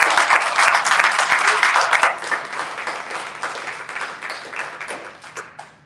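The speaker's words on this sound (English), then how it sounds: "Please, let's give a round of applause to the cast and crew and pit of Moby Dick." Theatre audience applauding the cast, crew and pit orchestra of a Moby Dick stage production at a curtain call, a loud dense burst of clapping that gradually thins and fades.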